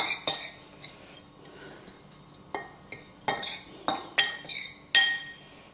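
A utensil clinks and scrapes against a bowl while Parmesan crust ingredients and black pepper are mixed, giving a series of sharp, close metallic taps at an uneven rhythm.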